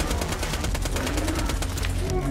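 Rapid automatic gunfire from Borderlands 2, a steady run of sharp shots packed close together for the whole stretch, loud and dense over a low rumbling game background.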